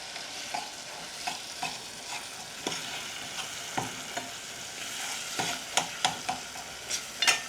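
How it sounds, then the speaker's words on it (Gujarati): Potatoes tossed into frying masala with tomato are stirred, a soft sizzle under repeated spoon scrapes and clicks against the pan that grow busier toward the end, with no talking. "હવે આપણે આમાં બટેટાને નાખી દેવાના છે."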